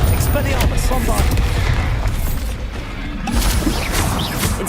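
Booming blasts from the Bombarda spell in Hogwarts Legacy crash amid continuous loud combat noise and rumble, with several sharp impacts near the start and again toward the end.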